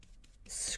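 Stiff brush scrubbing opaque titanium white acrylic paint onto canvas, a brief close, hissy scratch rising loud over quieter soft brushing strokes.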